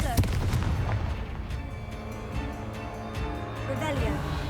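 Confringo blasting curse bursting in Hogwarts Legacy, a sharp booming explosion at the start that rolls into a rumbling decay beneath dense game music and ambience.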